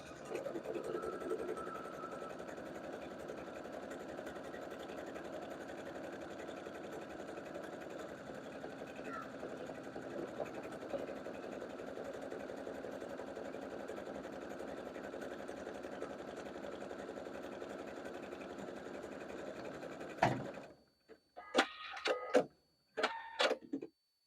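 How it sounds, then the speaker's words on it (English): A sewing machine stitching a buttonhole in fabric for a dress, a steady fast mechanical whirr running unbroken for about twenty seconds, then stopping and giving way to a few short clicks and bursts. "machine set to make the buttonhole for this size of button"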